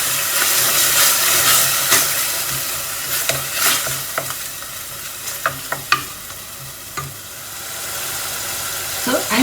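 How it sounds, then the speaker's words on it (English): Chopped tomatoes and mint sizzle and hiss in a pan while being stirred, with scraping clicks of a utensil and a soft voice at times. "we can add in our chopped tomatoes. And then you add in your mint. So fry this well."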